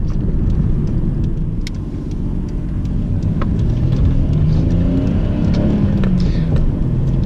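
A 1990 Nissan Skyline GTS-T Type M sedan engine drones steadily from inside the car, a loud low rumble with gentle rises in pitch as it builds boost, accompanied by faint road noise.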